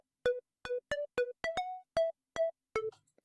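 Synth lead layer built from square and sine waves, a dry run of nine short plucky notes with bright harmonic tone, loud and alone with no effects.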